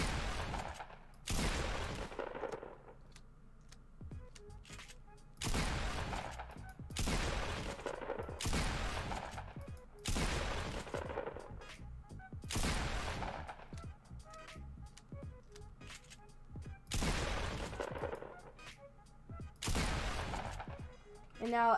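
Gunfire in a video game strikes a ramp and a wall in about eight loud, rapid bursts separated by short pauses, each burst a dense volley of shots.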